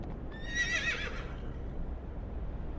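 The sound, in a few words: horse hooves clopping and neighing, audiobook sound effect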